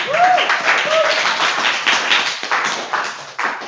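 Students in a high school classroom clap together, a brief burst of scattered hand claps with voices mixed in.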